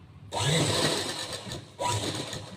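Sewing machine stitching a strip onto the side of a garment, two bursts of rapid, whirring needle motor action, the first about one and a half seconds long and the second shorter after a brief pause.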